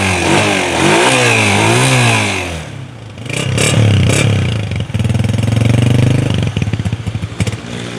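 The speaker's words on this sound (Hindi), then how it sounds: "ठीक है जी, ज़रा इंजन साउंड हो जाए।" A 2005 Honda 125 motorcycle engine runs nearby, rising and falling through several revs before settling into a loud, steady idle with a clattering, pulsing beat toward the end.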